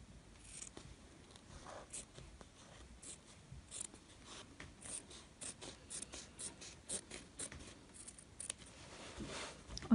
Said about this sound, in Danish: Og så klipper jeg ud til sidste sting.